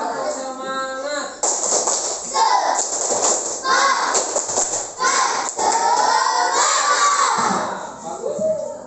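Schoolchildren in a classroom shout and chant together in bursts while doing a spirit clap for a classmate. Loud, excited young voices come in rhythmic waves, with claps mixed in and brief pauses between the chants.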